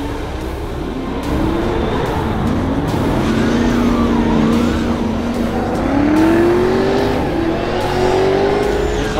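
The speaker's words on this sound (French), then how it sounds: "En montant le bruit des V8 qui travaillent" V8 drift cars, a BMW E30 and a Nissan S15, roar loudly in close succession, engines revving and rising in pitch as they accelerate past, with a continuous heavy mechanical drone.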